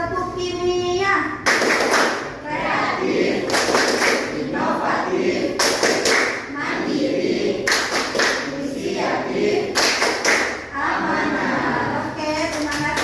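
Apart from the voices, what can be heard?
rhythmic hand clapping in a classroom clap chant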